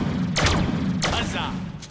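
Video game gunfire from Deadpool: two sharp, loud shots about half a second apart, then a third cut short at the end, over a low background hum.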